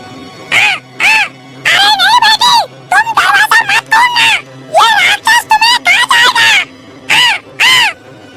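A series of loud, harsh caws repeated in quick bursts, close by, resembling a crow calling over and over.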